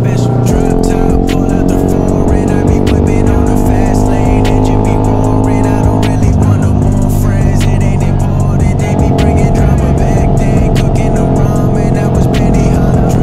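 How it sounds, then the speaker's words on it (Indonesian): Loud, steady engine roar from about twenty motorbikes setting off together on a Sunday group ride to a waterfall in Kendari, Indonesia, a dense rumbling drone with revving that continues throughout. "Sekarang kayaknya ada 20-an motor yang berangkat"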